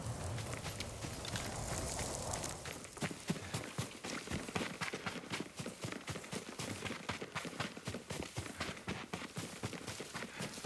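A horse's hooves clip-clop in the video game Ghost of Tsushima, a rapid steady run of hoof beats over a rushing, breathy background, the horse staying close and clear throughout with no talk.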